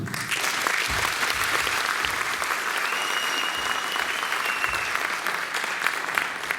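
Sustained, loud applause from a concert audience for performing music students, dense and even from start to finish, with occasional cheers mixed into the clapping.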